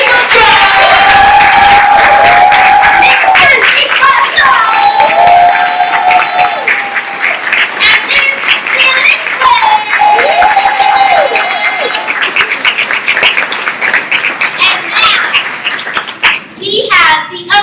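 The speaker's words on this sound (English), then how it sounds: "can we get a round of applause for the current Women's Center's team who put this together?" A crowd at a university women's center 30th anniversary celebration claps and cheers loudly and continuously, with a host's voice carrying over the applause before it thins out near the end.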